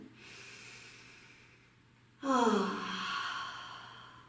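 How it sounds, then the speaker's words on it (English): A person takes a deep breath during a yoga session, a soft drawn inhale followed by a louder, breathy exhale with a slight sighing tone, close and alone. "Take one more big breath in."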